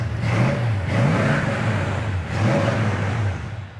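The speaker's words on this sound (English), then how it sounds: "Today we're going to be checking out and test driving a beautiful 1970 Mustang" A 1970 Ford Mustang coupe engine revs up close and loud on a test drive, climbing and easing off in three distinct surges over a steady throaty rumble.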